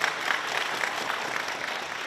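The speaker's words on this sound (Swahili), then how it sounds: "Naomba tumpigie makofi mkuu wa mkoa." An audience at a book launch applauds the regional commissioner, a dense burst of clapping from many hands that carries steadily throughout the short moment, with no voices over it.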